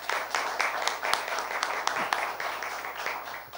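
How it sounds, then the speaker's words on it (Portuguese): Audience applause at a legislative school lecture event, a sustained patter of many hands clapping at moderate volume, with a few sharper individual claps standing out, easing off slightly at the end. "Vamos começar com uma salva de palmas?"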